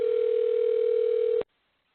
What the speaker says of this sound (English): So somebody's phone is ringing there.